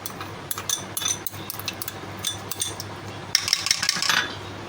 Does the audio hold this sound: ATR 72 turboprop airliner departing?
no